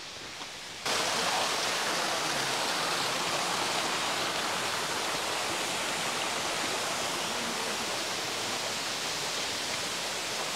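A waterfall beside a mountain road in Nara, Japan roars as a loud, steady rush of water that swells in abruptly after a quieter first second and holds unbroken, with no voices.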